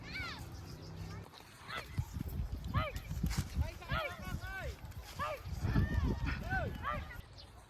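Horse hooves clip-clopping on a road during Holy Week in Laguna, a quick rhythmic clatter under a child's and adults' chatter, with outdoor background noise.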